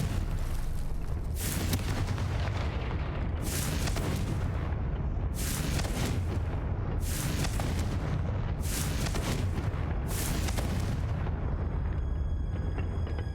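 Repeated Confringo fire-spell blasts from the video game Hogwarts Legacy, about six loud booming bursts at a fairly steady rhythm over a continuous low rumble, with no voices.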